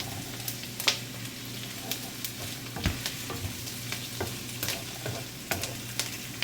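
Cabbage and tempura being stir-fried in an oiled pan, with a steady sizzle under repeated sharp scrapes and clinks of a utensil stirring against the pan, close and fairly loud, no talking.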